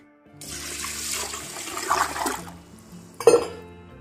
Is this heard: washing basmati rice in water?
yes